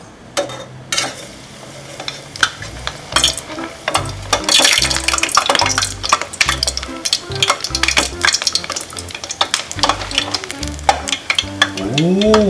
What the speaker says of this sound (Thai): ตอนนี้น้ำมันเราก็ได้แล้วนะ อุณหภูมิพอดีเลยเดี๋ยวนี้ก็จะเอานี่ ไอติมของเราลงไปทอดนะครับ